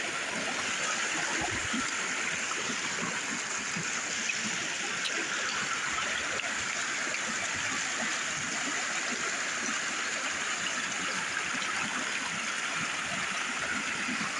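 A river runs through a ravine in Grenada, its steady rushing and gurgling holding an even level throughout with no voices over it.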